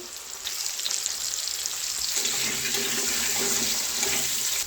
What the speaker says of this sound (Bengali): তেলটা গরম হয়ে গেছে, আলুগুলো ভাজতে দিয়ে দেবো।